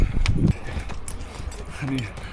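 Horse hooves clip-clop at a walk on a riding trail near Kaindy Lake, Kazakhstan, with a steady series of close knocks while people talk over them.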